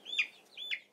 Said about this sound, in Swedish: Den här hönan som jag håller i här, det är en gul Orpington.